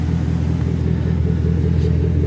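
A 2017 BMW M240i engine idles steadily with a deep, even rumble and exhaust burble, close and continuous with no voices over it, at a salvage auction lot.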